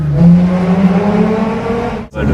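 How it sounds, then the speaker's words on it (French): A diesel Seat Ibiza engine holds a loud, steady buzzing drone up close as it bounces off the rev limiter, then cuts out abruptly for a moment before picking back up. "Le rupteur, c'est fou"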